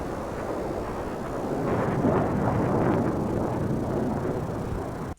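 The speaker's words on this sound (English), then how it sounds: "We'll just have the plane fly over." A plane passing overhead as a steady broadband roar that swells toward the middle and eases off, continuous and fairly loud for about five seconds with no talking.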